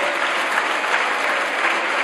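A dense burst of applause from members of the Spanish parliament, steady and fairly loud throughout the short stretch, with no one speaking.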